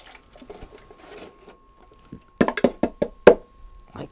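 Moringa seeds in water poured through a screen: a run of sharp splashy pulses and dribbles, moderately close, with quieter trickling before and after.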